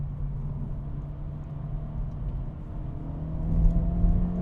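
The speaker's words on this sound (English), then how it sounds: "Rev matching works great." A 2025 Acura Integra Type S engine drones steadily from inside the cabin while driving, its tone lifting briefly near the end as a rev-matched blip swells the sound.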